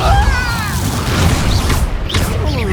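Depulso force spell cast in Hogwarts Legacy, heard as a dense whooshing blast with booming low-end impact and crackling bursts, layered over continuous game combat noise and faint voices.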